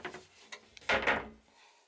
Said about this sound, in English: I have to close the door first.